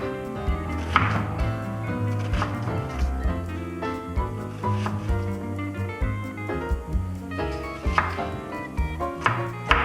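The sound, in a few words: knife chopping onion for guacamole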